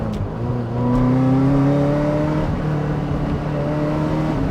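A 1990s BMW M5 E34 super saloon's engine revs while driving, a smooth rising tone that climbs then settles into a steady drone, heard from inside or close to the car with no talking.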